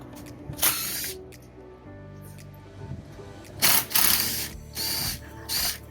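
Screws being backed out of the corners of an aluminum Safe-T-Cover backflow enclosure roof, heard as several short bursts of ratcheting, whirring tool noise with quiet gaps between them, fairly close.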